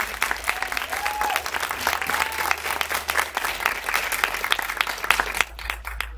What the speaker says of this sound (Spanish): Un aplauso para Lorena